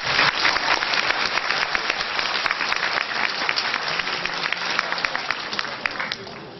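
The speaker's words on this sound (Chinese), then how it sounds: "请大家热烈的掌声来欢迎陈丹青老师" Warm applause from a lecture audience at Zhejiang University welcoming Chen Danqing, many hands clapping densely and loudly at once, holding steady for several seconds before thinning out at the end.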